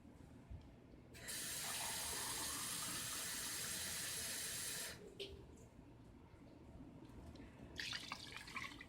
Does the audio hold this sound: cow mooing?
no